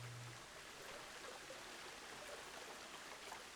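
A waterfall in the Planet Zoo video game flows with a steady, soft wash of rushing water that keeps an even level from start to finish, faint and continuous.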